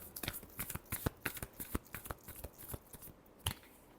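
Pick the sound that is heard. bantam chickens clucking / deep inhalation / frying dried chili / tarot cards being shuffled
tarot cards being shuffled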